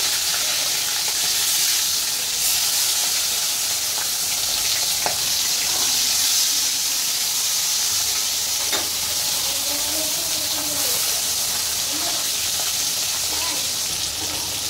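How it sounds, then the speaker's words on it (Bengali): Fish fry in a pan with a loud, continuous sizzle and hiss, close up, while occasional faint stirring taps and soft bubbling rise above the steady crackle. "এই যে মাছগুলো ভাজা হচ্ছে, হতে থাকছে।"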